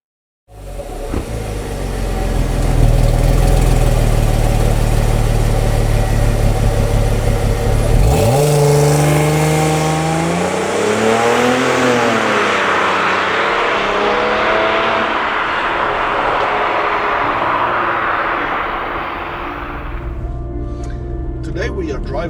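A 2002 Audi A4 with a 2.4 V6 and multitronic gearbox idles with a steady hum, then revs up loudly and sweeps back down, continuing as a sustained close engine drone.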